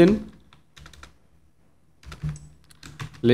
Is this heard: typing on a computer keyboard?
yes